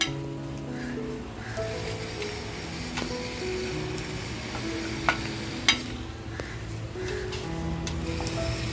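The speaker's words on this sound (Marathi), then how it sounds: "त्याच्यामुळं तापलेल्या पॅनमध्ये आपलं खोबरं आणि जिरं असं छान फ्राय होणार आहे" Grated coconut and cumin seeds fry in a hot pan with the flame switched off, giving a steady, close sizzle and crackle with a couple of sharp scraping clicks from the spatula.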